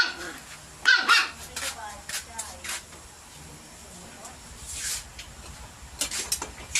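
A pet dog barks in short, sharp yips and barks, several spread over a few seconds, close by in a home while people chat and eat dinner.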